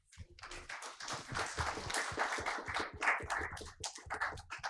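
An audience at a Ukrainian independence celebration claps in a rising burst of applause, a crowd of hands patting unevenly and fairly close, building and then tapering with scattered claps.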